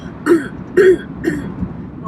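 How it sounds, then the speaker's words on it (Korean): Three short, harsh throat-clearing coughs at a steady rhythm, close and fairly loud, with a quiet pause between each. "너 기침이 이렇게 심하게 하냐"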